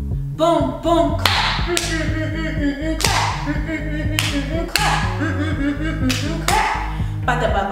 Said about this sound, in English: So let's all clap together in this one.